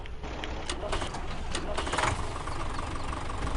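A Massey Ferguson Series 600 tractor without a cab idling in Farming Simulator 2017, a steady low engine rumble with faint knocking texture, close and continuous.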